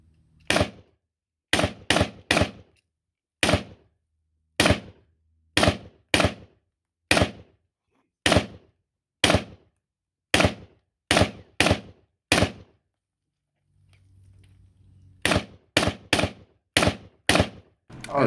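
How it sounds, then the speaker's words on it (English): SKS rifle fired in real life, a long series of sharp, loud reports, some single and some in quick pairs or bursts, with short silent gaps between shots and no talk. "Hunter starts it off with him shooting in real life"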